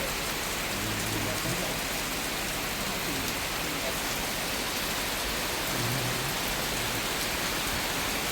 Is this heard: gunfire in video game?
no